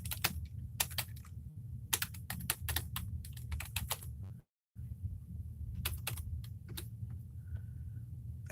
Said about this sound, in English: Now I'll type in hydroxychloroquine.